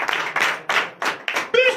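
A church congregation at a Sunday service in Bénin claps in a short rhythmic burst of about five or six strong, even beats, with a voice calling out at the end.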